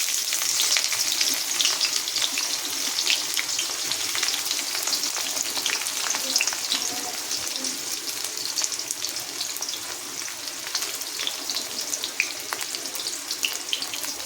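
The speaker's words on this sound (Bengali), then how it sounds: "হালকা আঁচে একটু নেড়ে নিচ্ছি।" Frying in a pan over low heat gives a dense, continuous hiss and crackle at close range, steady throughout with faint stirring scrapes mixed in.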